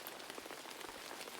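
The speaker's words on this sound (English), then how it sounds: "The rain pitter-pattered on the material of the umbrella, and Koko felt very cosy beneath it." Steady rain patters densely on the taut fabric of an umbrella, a continuous soft crackle of many small drops with no voices.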